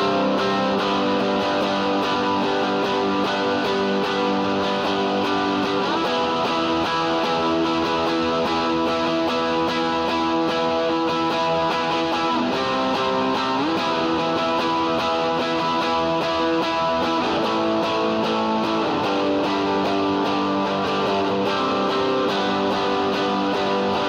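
Driven electric guitar hammers full chords through the last chorus of a worship song, G bar chord included, a thick distorted wall of sound that stays loud and constant, with no voices.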